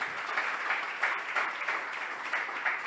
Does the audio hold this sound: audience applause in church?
yes